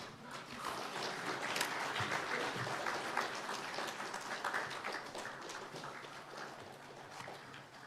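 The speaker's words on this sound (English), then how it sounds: "Can we all raise up, please, to welcome her with a big round of applause?" An audience at an annual university conference breaks into steady, sustained applause to welcome the chief guest, a dense wash of clapping from many hands that holds for several seconds and fades slightly toward the end.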